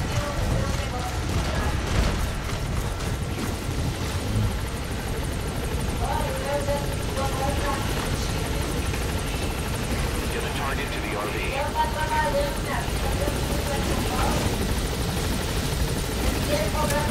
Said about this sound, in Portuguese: O helicóptero está vindo.